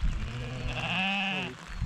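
A sheep bleats once in a long, wavering, close cry on a rainy mountain path in the Retezat Mountains while a flock is driven uphill, with a low rumble of background noise.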